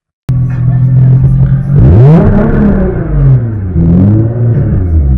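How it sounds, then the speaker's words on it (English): A car engine started from cold and revved right away: a loud, close idle rumble rises into a revving surge, drops back, then climbs again before cutting off. "Never start your car and immediately rev the engine."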